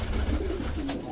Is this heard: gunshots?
no